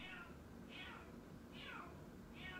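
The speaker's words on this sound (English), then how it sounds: "it's my cat meowing if you hear anything" A house cat meows four times in a steady repeating rhythm, each call a drawn-out falling wail, faint and somewhat distant over a low background hiss.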